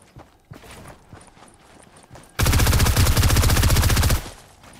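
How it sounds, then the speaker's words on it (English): A gold SMG in Fortnite fires one dense, loud burst of rapid shots lasting nearly two seconds, after quieter scattered footsteps and clatter. "I unloaded a gold SMG on him"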